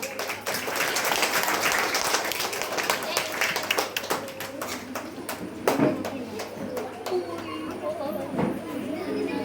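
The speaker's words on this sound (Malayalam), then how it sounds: "ഒന്ന് കൈയടിച്ച എല്ലാവരും" Everyone clapping together at a school welcome event, a dense continuous patter of hands lasting throughout, with voices and children's chatter mixed in underneath and the odd louder clap standing out.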